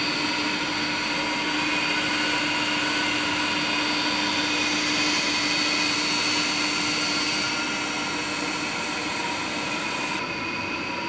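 A pumping station motor runs steadily at close range, a loud continuous mechanical hum with a strong tonal whine and broadband roar that holds level throughout, with no talking.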